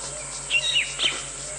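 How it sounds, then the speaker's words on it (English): A tiny owl with two eye-like black spots on the back of its head gives two short, high whistling calls heard during an evening safari drive in Nkuhuma, over a steady drone of insects. "that tiny, tiny owl was making that wonderful whistling sound"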